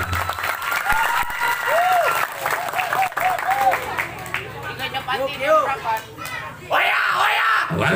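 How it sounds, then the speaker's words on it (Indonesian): Applause for the Al-Hidayah pesantren at a Sundanese religious talk, a lively crowd clapping with cheers and shrill calls mixed in, continuing steadily before rising again near the end. "Tepuk tangan untuk pasantren Al-Hidayah."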